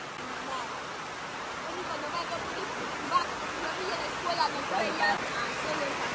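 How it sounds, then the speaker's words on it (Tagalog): Heavy rain falls steadily on a Filipino bahay kubo, a broad even wash of noise with faint scattered drips and patters, with quiet voices talking faintly underneath. "Nasa loob ng bahay ang mga bata pag ganyan kalakas ang ulan"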